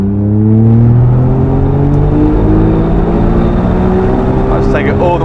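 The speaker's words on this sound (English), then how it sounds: "Let's take it all the way to the red line." Small Suzuki Cappuccino roadster engine revving up through the gears toward the red line, rising harmonic drone loud and close throughout, with someone talking over it.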